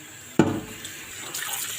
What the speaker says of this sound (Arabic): كده بقى بدات اغسل الحلل